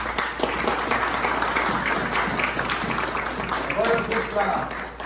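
A church congregation applauds steadily throughout, a dense, even wash of clapping with voices mixed in and a few brief tonal cries near the end.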